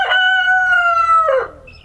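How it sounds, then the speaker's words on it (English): A young rooster among meat chickens gives a single loud, close crow, a sustained tonal call that breaks off near the end, followed by a brief faint cluck. "One of them is crowing?"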